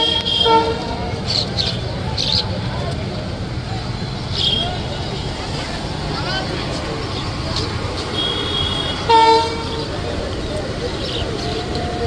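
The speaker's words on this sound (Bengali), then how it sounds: "লোকোমোটিভ রিভার্স করে চলে যাবে চাঁপাইনবাবগঞ্জ।" A locomotive detached and reversing at Rohanpur railway station, with short horn toots at intervals over a steady rumble and a busy murmur of voices from the platform crowd.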